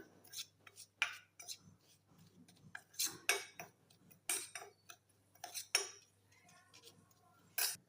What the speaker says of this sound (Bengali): এবার আমি মশলাটা ভালো করে মিশিয়ে রাখলাম।